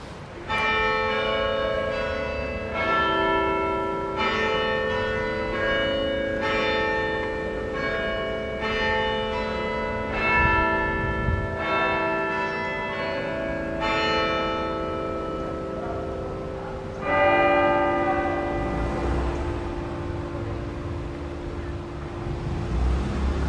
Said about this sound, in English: I've actually caught the bells chiming